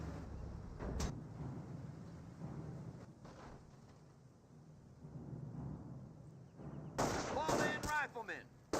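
Machine gun fire from an MG42 in Company of Heroes, distant bursts in a busy battle soundscape, with a louder rattling volley near the end and a voice talking under the action.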